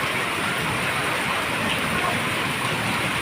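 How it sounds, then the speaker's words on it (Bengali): Steady rainfall outdoors, an even, continuous hiss of drops striking surfaces, moderately loud and unbroken throughout with no one talking. "এই যে দেখতেছেন বৃষ্টি যা যাচ্ছে"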